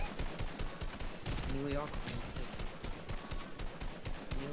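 Rapid gunfire in a video game, dense and fairly distant, with bursts and single shots layered under people talking.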